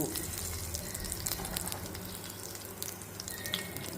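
Mustard seeds frying in hot oil give a dense, continuous sizzle and crackle with small pops, steady and close for a few seconds, with no voices.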